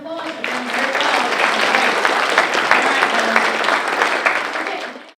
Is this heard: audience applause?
yes